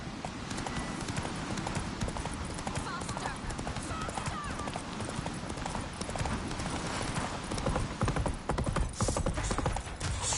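Roach, the horse in The Witcher 3, gallops with steady rapid hoof clip-clops beneath a busy game soundscape, while voices talk over the action.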